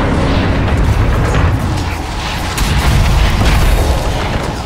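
Repeated booming impacts of an attack on a tower in the video game Dota 2, loud and continuous, with heavy low rumble and bursts of crackling hits overlapping throughout.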